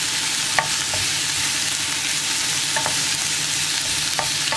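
Tomatoes and onions fry in a pan for a chutney while being stirred, a steady close sizzle broken by repeated light scraping and tapping strokes, with no voices.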